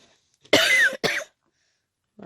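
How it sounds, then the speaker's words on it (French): A person coughs twice in close succession, loud and near, the first cough longer and harsh, the second short, followed by quiet and a faint breath or sound at the end. "Toujours cette manie d'essayer de s'empêcher de tousser"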